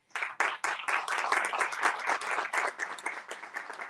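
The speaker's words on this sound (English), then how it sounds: "ladies and gentlemen, a round of applause." Audience applause at a Diwali celebration at NSW Parliament, a dense, continuous burst of many hands clapping at moderate distance, with a faint voice underneath.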